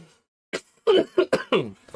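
A person coughing close to the microphone, a cluster of four or five harsh, quick bursts after a brief silence, with a throat-clearing quality.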